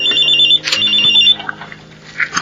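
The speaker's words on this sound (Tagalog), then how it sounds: "Cellphone ko ay tumatawag." A cellphone rings with a bright electronic ringtone, repeating tones that start loud and close, pause, then continue more faintly, in a radio drama scene.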